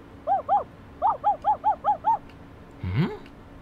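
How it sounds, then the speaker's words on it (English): In the visual novel A Sky Full of Stars, a dog gives an excited run of about eight quick, evenly spaced barks. A short rising whine follows, all fairly clear and close. "Hearing the familiar sound of Kotaro's excited barking"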